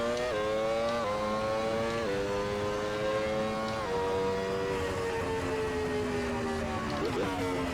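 A Williams FW24 Formula 1 car's engine screams loud and continuous in a sim game, pitch climbing then dropping sharply at several quick gear changes, with blipped downshifts and cut upshifts.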